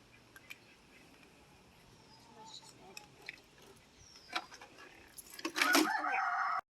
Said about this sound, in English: So over here we have the Polish chickens.